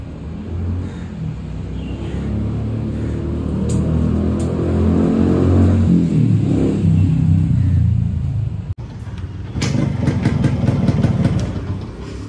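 Yamaha RX two-stroke motorcycle engine running steadily, then revving up and down in rising and falling surges, with a brief cut partway through before it picks up again, loud and close.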